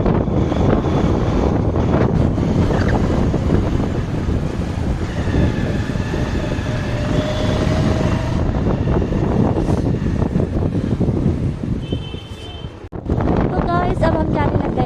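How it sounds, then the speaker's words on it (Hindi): Wind roars steadily past the microphone while riding a motorbike on a sunny road trip. It is a loud, continuous rushing buffet, with faint voices now and then. "तो ये रहा हेलमेट और अब हम चलते हैं बाइक में।"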